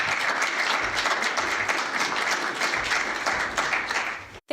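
An audience applauds steadily and loudly at a gathering, a dense sustained wash of clapping that holds evenly before cutting off abruptly at the end.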